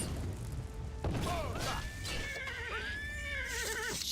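A horse whinnies in a video game, with a long, wavering neigh rising and falling over a second or two amid clattering game noise and faint hoof sounds.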